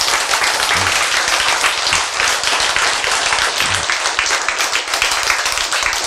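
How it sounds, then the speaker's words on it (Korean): An audience applauds in a church talk, a dense, continuous wash of many hands clapping at a steady level for several seconds with no voices over it. "자, 이쯤 되면 박수 한번 쳐야 되겠죠."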